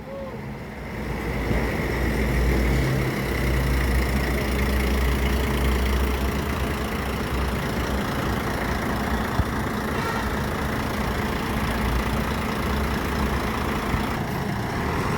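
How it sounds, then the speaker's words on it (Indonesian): An ALS intercity bus with an Inno RK8 engine idles nearby on the road across Sumatra. The engine gives a steady low, throbbing rumble that starts after a quiet second and then holds level and loud throughout. "Pakai mesin Inno RK 8."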